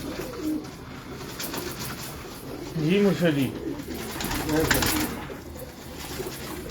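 Pigeons coo softly in a loft, low throaty calls repeating under someone speaking, with a steady background murmur throughout.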